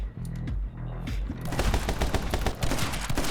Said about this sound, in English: Oh my god, there are shotguns now.